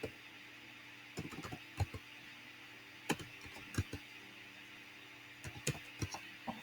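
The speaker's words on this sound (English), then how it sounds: "I'm just going to type in some bowl numbers." Bowl numbers typed on a computer keyboard in an office setting, with scattered clusters of quick, light key clicks and short pauses between bursts, fairly close and quiet, with no talking.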